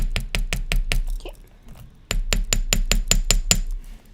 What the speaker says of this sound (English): then go in with your metal hammer.